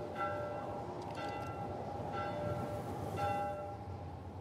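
A church bell tolls in the video game The Last of Us Part 1, three ringing strikes about a second apart, each fading out over a steady, noisy ambient background.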